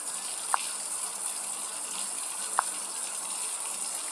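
Water runs steadily from a tap during washing with cotton and soap, a continuous close gush with two brief clinks or splashes over it and no talking.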